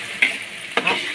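Sambal terasi fries and is stirred in a pan, a steady close sizzle broken by two scraping spoon strokes across the pan.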